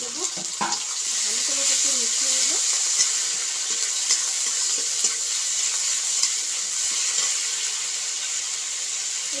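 Onion, chili and cumin paste mixed with water, stirred steadily in a pan with a soft continuous sizzle and occasional scraping clinks; a brief voice murmurs near the start.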